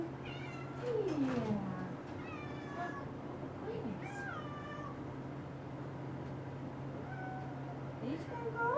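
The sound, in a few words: cat meowing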